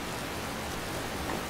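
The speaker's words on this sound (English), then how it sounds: "it's a dark and rainy night" Steady rain falls at night in the Skyrim game world, a continuous soft hiss of even, broadband noise with no breaks, fairly quiet and alone.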